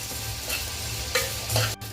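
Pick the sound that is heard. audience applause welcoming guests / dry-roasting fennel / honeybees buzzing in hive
dry-roasting fennel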